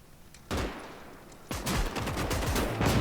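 Gunfire in the Gates of Hell real-time strategy war game, a sharp shot followed by a second burst of overlapping rapid fire, loud and sustained.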